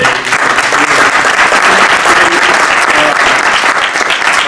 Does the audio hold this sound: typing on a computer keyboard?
no